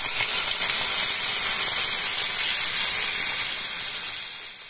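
An Iberian pork secreto de papada sears on an oiled griddle, a loud, close, steady hiss that holds without pause and tapers slightly at the end.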